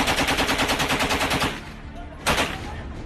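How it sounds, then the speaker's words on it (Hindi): Rapid bursts of gunfire ring out in Bihar's capital, a fast rattling string of shots that stops and then returns as a single loud report, heard from a nearby house at moderate distance. "एक के बाद एक तड़तड़ाहट से गोलियां चल रही हैं"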